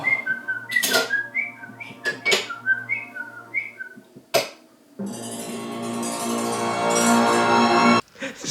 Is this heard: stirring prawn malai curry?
no